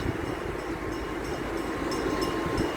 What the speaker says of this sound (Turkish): Bu tren yazın da oluyor arkadaşlar.